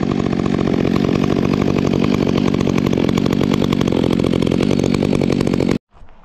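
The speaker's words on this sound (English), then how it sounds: "any new two-stroke engine I buy, I make sure that I break it in by letting it idle until it's hot" A brand-new Stihl MS362c two-stroke chainsaw idles steadily and loudly up close, its engine note even and continuous before cutting off abruptly near the end.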